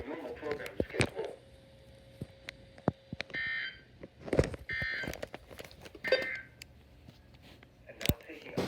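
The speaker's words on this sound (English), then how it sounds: "the freaking ZONEGUARD just went boop and it just activated." A ZONEGUARD weather radio alert receiver gives several short buzzy beep bursts spread through the clip, mixed with clicks and brief tones during a broadcast of a required weekly test on KHB31.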